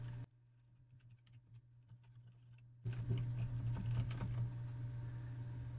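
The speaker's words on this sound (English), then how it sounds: "in this search bar up here, you want to type in javascript.enabled." Quick, light taps on a computer keyboard, faint at first and then louder and closer, steady patter of keystrokes with no talking.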